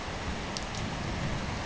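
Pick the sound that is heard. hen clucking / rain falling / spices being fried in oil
rain falling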